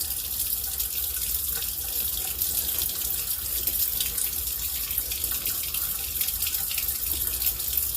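A kitchen tap runs warm water steadily into a sink, a constant close splashing hiss with no pauses, heard while preparing homemade bread dough.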